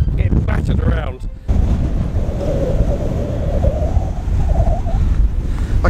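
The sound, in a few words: strong wind buffeting the microphone on a hill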